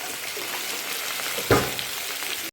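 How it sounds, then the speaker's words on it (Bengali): Raw mustard oil is poured over spiced mustard paste in a pan and sizzles with a steady crackling fry. It is moderately loud, with one sharper spatter partway through. "এখন উপর থেকে কাঁচা সরষের তেল দিয়ে দেবো।"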